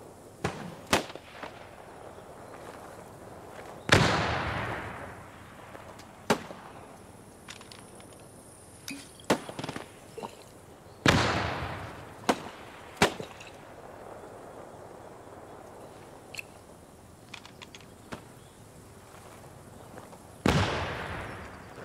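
Several sharp explosions and bangs in the World War II shooter Post Scriptum, sudden loud blasts spaced irregularly with fading tails, among scattered distant gunshots and cracks.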